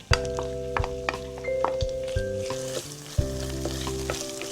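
Raw crab meat hits medium-hot oil at about 140 degrees and fries with a loud, steady sizzle and spatter, broken by a few sharp clicks and shifts as it is stirred.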